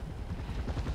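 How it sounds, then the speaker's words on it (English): Helicopters in the video game Far Cry 4 thump with rapid, steady rotor beats, loud and close, over a dense rumbling game soundscape. "Oh no, the choppers."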